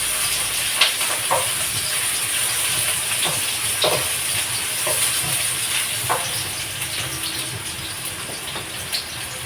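Garlic and onion frying in a pan for pork and chicken adobo, giving a steady close hiss and sizzle with scattered soft crackles and clinks throughout, no talking.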